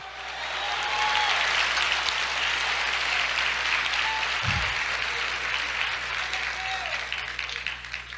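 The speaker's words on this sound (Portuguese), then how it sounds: "Aplauda o Senhor, diga aleluia!" A church congregation claps and cheers steadily at a worship service, a dense wash of applause that stays loud and sustained from start to finish, with scattered voices calling out in the crowd.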